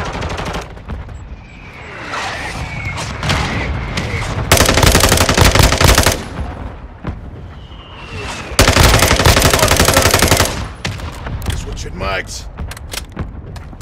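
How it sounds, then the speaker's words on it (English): Mortar strike in the video game Modern Warfare 2: two loud, sustained blasts of a few seconds each roar over ongoing gunfire, with voices talking throughout. "Mortar strike inbound now."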